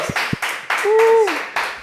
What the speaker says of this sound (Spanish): ¡Aplausitos!